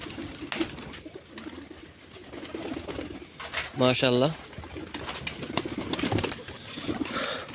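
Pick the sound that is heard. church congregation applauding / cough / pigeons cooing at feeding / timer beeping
pigeons cooing at feeding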